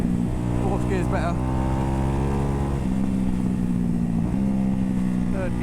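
A Ducati Hypermotard 698 Mono single-cylinder motorcycle rides steadily in third gear, its close, loud engine drone holding pitch with small shifts in revs over constant wind rush.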